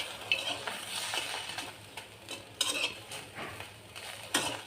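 Dried fish (shutki) being fried in a pan, heard as quiet metallic scrapes and clinks of a utensil stirring against the pan, with a faint sizzle underneath and no voices.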